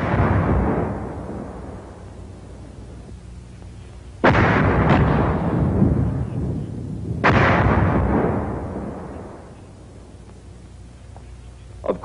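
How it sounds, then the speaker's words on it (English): Several 81 millimeter mortar shells explode in turn, heavy booming blasts at a distance, each followed by a long rolling rumble and tail that fades away. "an exploding mortar shell can kill"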